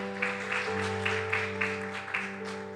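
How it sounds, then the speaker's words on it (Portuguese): A church congregation claps steadily under sustained organ or keyboard chords, the applause moderately loud with rhythmic peaks. "Aplauda o Senhor, nós encontramos você."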